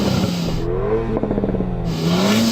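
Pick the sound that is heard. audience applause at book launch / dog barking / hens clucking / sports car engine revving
sports car engine revving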